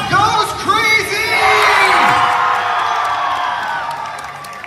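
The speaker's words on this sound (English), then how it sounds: "And the crowd goes crazy." Audience at a hypnosis talk show erupting in loud cheering, whoops and shouts with applause underneath, a dense crowd roar that swells and then slowly tapers off.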